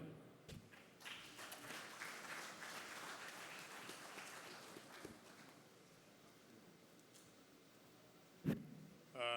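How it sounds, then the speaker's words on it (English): Audience applause at a business conference session in Nigeria, a steady spread of clapping that fades out over several seconds, with a sharper burst near the end. "Can we give him another round of applause, please?"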